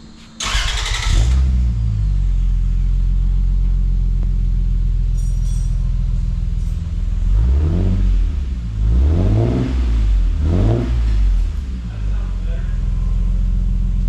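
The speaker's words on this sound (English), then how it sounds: "New exhaust in. Let's give it a listen. First startup." A Lexus GS300 engine with a new exhaust cranks and catches with a loud burst, settles into a deep, steady idle, then revs sharply three or four times before easing back.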